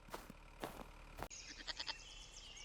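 Sheep and goats bleating on a Farming Simulator 22 farm, several quavering bleats close by in quick succession, then a softer, higher bleating call over quiet ambience.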